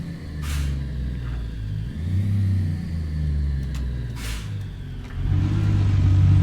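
A truck engine in American Truck Simulator, a low steady rumble that climbs and eases back through its revs, then swells louder near the end, close and continuous with no talking.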